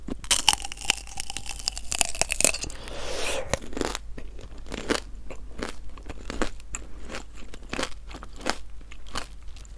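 Candied strawberry tanghulu is bitten and chewed up close, producing loud, sharp crunches and crackles of the sugar shell that repeat steadily, with no talking.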